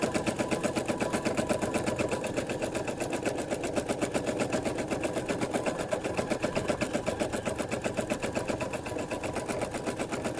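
A sewing machine stitches free-motion embroidery on an appliqué blackbird at a fast, even needle rhythm, a loud continuous close-up mechanical chatter that runs without a break.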